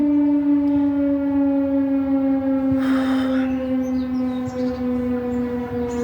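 An air-raid all-clear civil defense siren wails as a steady, sustained tone with overtones, loud and continuous for six seconds with a faint slow pitch drift, heard alone without talking.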